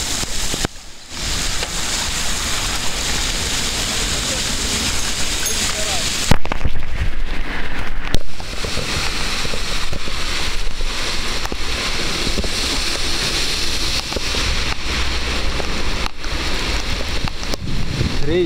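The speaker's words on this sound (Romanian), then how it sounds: "Și ploaia nu-i foarte intensă. E o ploaie de vară obișnuită." Steady ordinary summer rain, not very heavy, falling continuously as a broad hiss close by in Durlești, Moldova, with a brief louder burst partway through.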